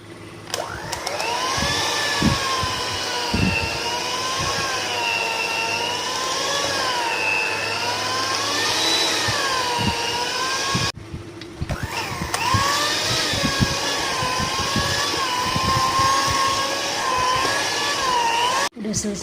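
A loud electric stand mixer runs steadily as it kneads bread dough for soft, fluffy rolls, its motor whine holding a wavering pitch with a brief cut partway through, while a person talks over it.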